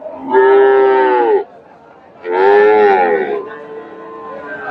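A Frisian heifer at a cattle market gives two long, loud moos close by, separated by a short pause, followed by quieter lowing and faint market murmur.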